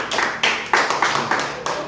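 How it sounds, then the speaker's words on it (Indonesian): Classmates clap for a student in a classroom, a burst of several sharp, uneven claps that rises and falls in quick waves for about two seconds, fairly close, with no talking. "Kita beri tepuk tangan temannya."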